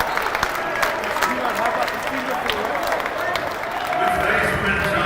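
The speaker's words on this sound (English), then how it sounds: "Crowd gives them a standing ovation," A college basketball crowd at an NCAA Division III men's tournament game gives a standing ovation, sustained dense applause filling the arena at full volume while an announcer talks over it.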